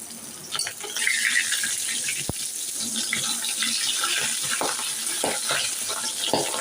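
Gulaiya fish rubbed with salt and turmeric sizzles in a hot pan: continuous crackling fry with scattered stirring scrapes and clinks, close and fairly loud, no talking.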